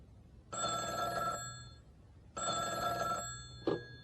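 Telephone bell ringing twice, each ring a buzzy electronic trill lasting about a second, separated by a short pause, followed by a brief click as the line is picked up.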